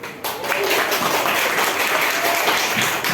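A classroom of students bursts into clapping during a project-based lesson, a dense continuous wash of applause that begins abruptly and holds steady and loud to the end.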